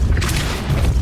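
A Depulso force spell goes off in Hogwarts Legacy as a deep, loud magical boom with a rumbling low-end thump lasting about a second, close and unaccompanied by speech.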